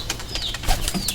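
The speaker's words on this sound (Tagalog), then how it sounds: "papakainin natin ng ating kalapati" Pigeons flap their wings in quick bursts, close by, with soft rustling flutters and a few faint coos, no talking.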